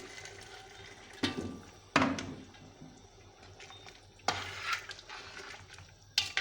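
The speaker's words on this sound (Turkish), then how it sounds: "Sıcak suyumu boşaltacağım üzerine." Hot water is poured over a simmering meat stew in a cooking pot, giving a few short splashing, bubbling bursts with quieter stirring and pot noise in between, close and moderately loud.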